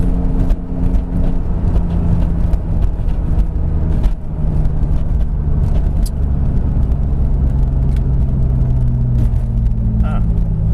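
A project car cruising down a road, a steady close engine rumble and road noise throughout with a person talking over it.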